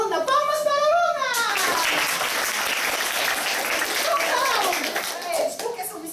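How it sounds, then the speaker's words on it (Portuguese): A group of children claps together for a girl during a storytelling session, loud and sustained across the whole stretch, with excited kids' voices and high-pitched shouts layered over the clapping. "Palmas para a Luna!"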